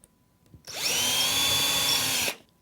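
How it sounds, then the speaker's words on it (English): A power drill drives a screw into a metal drawer runner on a base unit, one steady loud whir lasting about a second and a half before cutting off, with no talk. "So all you do is you get your drill"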